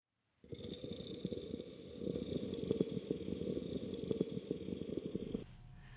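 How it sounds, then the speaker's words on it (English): Low, steady rumbling drone heard with fingers pressed into the ears in a quiet room, the twitching of arm muscle fibers, with soft fluttering irregularities throughout; it starts abruptly, runs continuously for about five seconds and then cuts off. "What you're hearing is the twitching of the muscle fibers in your arms."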